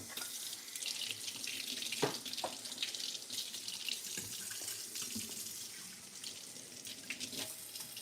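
A tap runs water into a sink as it is warmed for hair washing in a salon, a faint, steady splashing stream with small clinks and bumps and no speech.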